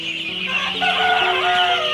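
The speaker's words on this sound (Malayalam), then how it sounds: "ആയിരക്കണക്കിന് താറാവുകൾ ഒന്നിച്ച് ഒരു വല്ലാത്ത കാഴ്ച തന്നെയാണിത്" Poultry at a duck farm with thousands of birds, a dense, loud, continuous chorus of quacking and calling that swells slightly midway and carries on without pause.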